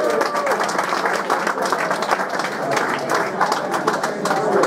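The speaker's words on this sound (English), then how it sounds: "Big round of applause" Auction room audience applauding after a lot sells at a charity memorial auction, a dense, steady wash of clapping from a sizeable crowd lasting throughout.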